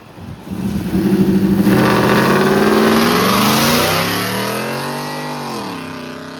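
A supercharged 2015 Ford F-150 with a 5.0 V8 launches hard from a dig, its engine roaring loud and close as it revs up through the run and then eases off toward the end, with no voices over it.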